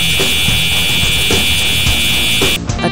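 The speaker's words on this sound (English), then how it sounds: "Fire alarm is going off during the lunch period." A school fire alarm goes off during the lunch period with a loud, steady, piercing electronic tone that runs unbroken and close before cutting out near the end.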